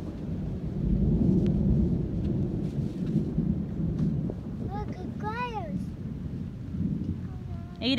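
A thunderstorm rumbles outdoors with low, broad thunder and rain noise running steadily throughout, while a child and an adult speak briefly over it near the end.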